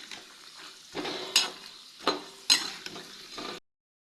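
Cashews roasting in ghee in a pan, with soft sizzling and crackling broken by a few sharper stirring scrapes, close and moderately quiet, with no talk.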